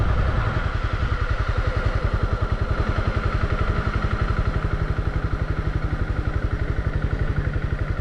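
Honda CB300R motorcycle engine running while ridden by a beginner, a rapid, steady single-cylinder thrum with regular pulsing exhaust beats, close and continuous with no talk.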